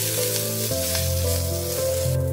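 Fresh leaves sautéing in hot oil give a steady, close sizzle that runs the whole time beneath a sustained musical backing.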